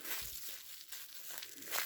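Plastic freezer bag filled with cooked minced meat being pressed flat and squeezed, giving continuous close crinkling and rustling with short crackly bursts and no voices.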